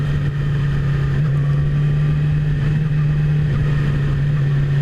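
A Yamaha R6 sport motorcycle, a 2017 model, cruising in fourth gear at a steady engine note, a loud continuous drone mixed with wind rush from a rider's perspective.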